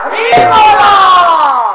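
Ululation (hulahuli) rising as a crowd joins in during an Odia devotional performance of Jaya Jagadisha Hare, with high wavering trills sustained loudly over a dense crowd roar and possible clapping.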